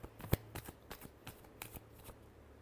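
Tarot cards being shuffled by hand at close range: a sharp initial slap followed by a string of soft, irregular riffles and taps over a couple of seconds, quiet and with no voices.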